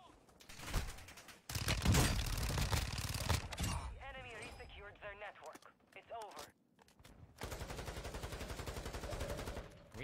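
Bursts of rapid automatic gunfire from a video game shooter, loud and dense, with a long sustained volley near the end and voices talking in between.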